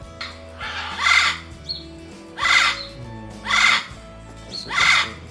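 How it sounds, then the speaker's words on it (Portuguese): A parrot gives four loud, harsh squawking calls spaced about a second apart, each burst rough and close, with faint background noise between them. "Se você disse que esse som é do papagaio, parabéns, você acertou mais uma vez."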